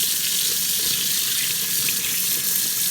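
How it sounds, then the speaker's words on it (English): Steady rush of running tap water splashing into a sink while rinsing smoked pork neck bones, continuous and close, with faint handling clatter underneath. "You're going to rinse the neck bones down."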